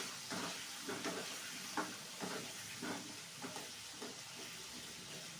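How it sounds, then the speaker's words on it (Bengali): Spices fried in a pan with salt and turmeric until reddish, giving a steady close sizzle with repeated scraping stir strokes at a regular rhythm and no talking. "নুন আর হলুদ দিয়ে একটু লাল করে ভেজে নেবো"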